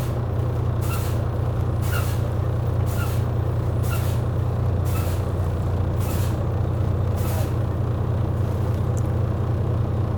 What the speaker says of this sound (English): I'm going to start fanning my brakes.